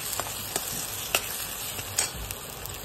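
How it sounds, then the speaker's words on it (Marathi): Spice masala with turmeric roasting in oil in a pan for a drumstick vegetable dish, giving a steady close sizzle and frying hiss punctuated by occasional soft stirring clicks. "आता याच्यामध्ये आपण थोडीशी हळद टाकून घेऊया आणि मस्त तेल सुटेपर्यंत याला चांगलं भाजून घेऊया।"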